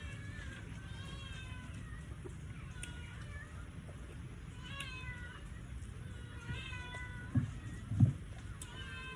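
Pet cats mewing at mealtime around papaya, with a few thin, separate meows spaced out over a low ongoing rumble, followed near the end by a couple of brief louder knocks.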